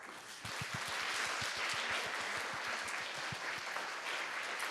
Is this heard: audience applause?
yes